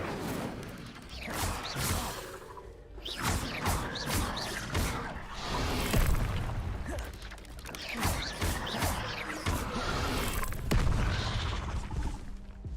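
A fire spell cast in the Hogwarts Legacy video game, with repeated whooshing bursts and impacts over a dense, busy game soundscape of combat noise.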